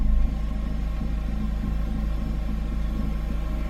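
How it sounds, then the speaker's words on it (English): A running car engine, a Pontiac G5 just repaired for an evap leak, holds a steady low idle rumble close by after a brief start at the beginning, with no talking. "you should be able to start the car"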